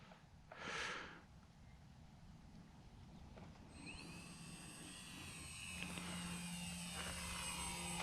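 An electric RC Cub model airplane on a 3S battery pack flies over a frozen lake, its motor whine rising and shifting in pitch as it passes, fairly faint against wind, with a brief whoosh early on.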